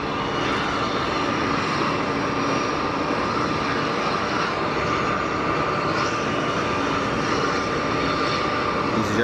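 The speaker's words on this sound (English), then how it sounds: "EasyJet from Lisbon just behind the tower right now" An easyJet airliner arriving from Lisbon passes behind a control tower at Geneva Airport, a steady broadband engine roar held at a moderate level throughout with no voices.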